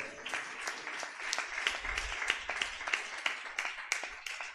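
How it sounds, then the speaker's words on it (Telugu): A church congregation claps steadily together, a dense sustained patter of many hands close to the listener, with no talk over it. "గట్టిగా చప్పట్లు కొడదామా?"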